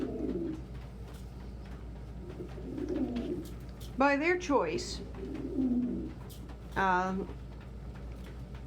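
Pigeons coo in a few soft bursts among quiet background noise, with a person speaking briefly.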